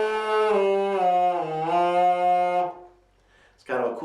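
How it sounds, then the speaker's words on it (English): A homemade kazoo is blown in a buzzy, nasal tone that dips and rises in pitch for about two and a half seconds. A short pause follows, then a voice begins to speak. "Now let's try it with our kazoo."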